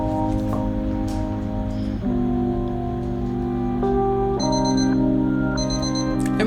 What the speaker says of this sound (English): I wonder what significance the alarm clock has.